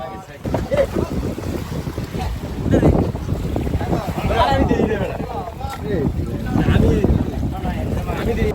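A hired boat motors across tidal water toward a small coral island, its engine drone mixed with wind buffeting the microphone and splashing water, continuous and close throughout.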